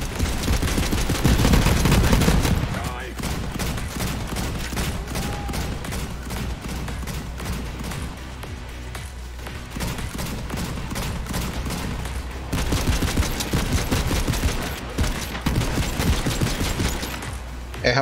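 Gunfire from the looter-shooter game Borderlands 3, dense bursts of rapid shots and booms running almost continuously, loud and close, with a player talking over the action in places.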